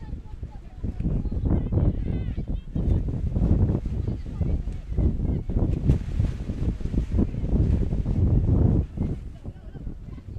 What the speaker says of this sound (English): Still a very windy day here at Alpha.